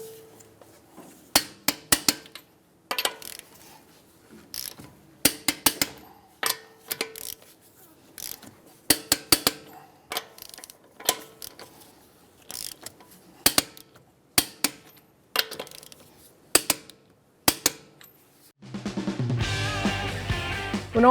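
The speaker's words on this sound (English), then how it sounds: "now we can torque down our lug nuts" Torque wrench with a 22mm socket tightening lug nuts on a 2007-2013 Acura MDX wheel, crisp ratcheting clicks in short repeated bursts, close and dry, ending with a louder mechanical rattle.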